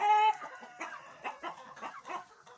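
Light Sussex chickens at a heritage breeding setup in Rawalpindi, close, clear clucking in a string of short, irregular calls after an opening sustained note, with no speech.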